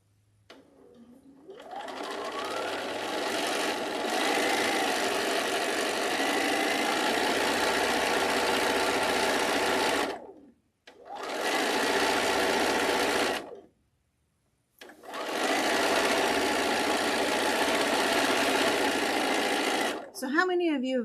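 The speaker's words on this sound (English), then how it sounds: "as I'm sewing, I am not tugging on either one of these fabrics. I'm letting the machine feed them through." A sewing machine stitches quilt fabric seams in long, steady bursts of humming whir, pausing twice briefly before running again, close and fairly loud with no voice over it.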